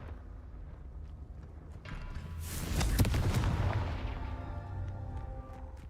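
A Confringo blasting spell in Hogwarts Legacy bursts into a single rumbling explosion at mid-clip, swelling loud and then fading into a low, lingering roar over steady game ambience.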